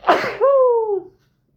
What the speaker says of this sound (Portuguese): Como eu não edito o vídeo, vai ficar meio espirro aí.